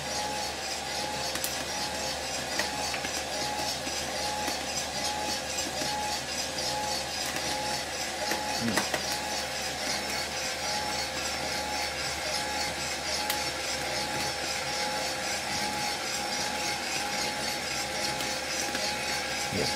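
An electric CR600e coffee roaster running with its fan, a steady loud whooshing roar with rattling texture from tumbling beans, unchanging throughout.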